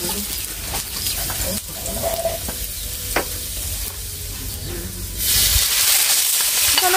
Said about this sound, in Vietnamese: Rồi chuẩn bị mình khử tỏi rồi mình xào hết nha cả nhà.